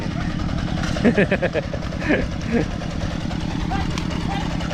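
An old farm tractor engine, over ten years old, chugs steadily at idle, a continuous rhythmic rumble close by, with voices speaking over it.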